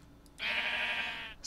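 A single sheep bleats in the video game Crundee Craft, a loud, close, drawn-out wavering cry lasting about a second, with no talk over it.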